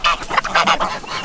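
Geese and ducks honking and quacking in a noisy cluster, several calls overlapping in quick succession, close by and loud.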